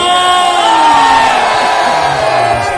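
Volleyball spectators at a semi-final cup match in an indoor hall roar, whoop and yell together in a loud, sustained crowd din with raised voices.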